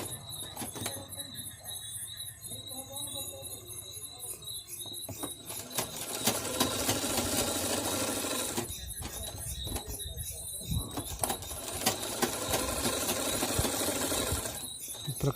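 A sewing machine stitches a katori blouse in bursts of rapid whirring, pausing briefly between runs, close and moderately loud with faint background noise.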